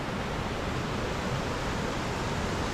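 Roadside waterfall along NC Highway 64, a steady broadband rush of falling water, dense and continuous at close range, no voices.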